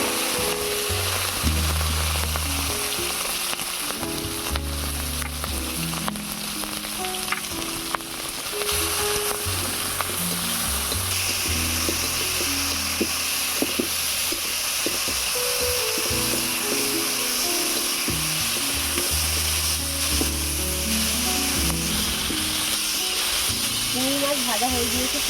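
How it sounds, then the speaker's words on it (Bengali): Shrimp fry in hot mustard oil with a steady, close hiss and sizzle, with frequent small spits and crackles, while a person talks throughout. "এবারে চিংড়ি মাছ ভেজে নেব।"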